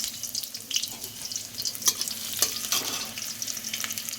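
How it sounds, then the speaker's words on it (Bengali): Pepper and chopped onion frying in a pan with spices, giving a steady close sizzle with scattered crackles and stirring clicks, no talk. "এবার আমি একে একে সব মশলাগুলো ভেজে নেব"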